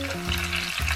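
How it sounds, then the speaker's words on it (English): Sichuan pepper, star anise and cinnamon stir-fried in hot oil until slightly burnt, giving a brief, close sizzle under steady low music tones with no voices. "Stir fry everything until they get slightly burnt"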